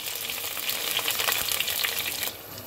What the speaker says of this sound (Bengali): এইবার আমি পেঁয়াজটাকে সুন্দর করে ভেজে নেব